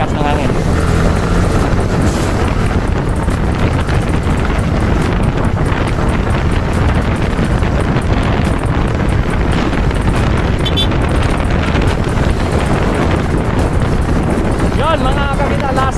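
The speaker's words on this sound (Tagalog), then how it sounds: "Sobrang lakas ng hangin." Strong wind batters the microphone at a classic-category bike race, a loud constant roar that swamps everything, with voices faintly audible beneath it.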